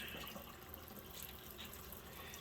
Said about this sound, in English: we're going to run the hot water till it's hot